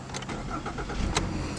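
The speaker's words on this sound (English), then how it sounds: "what you're hearing is an engine that's actually carried over from the previous Fusion." A 2014 Ford Fusion S with the carried-over 2.5-liter four-cylinder engine cranks and starts, settling into a steady close-up idle rumble with no one talking.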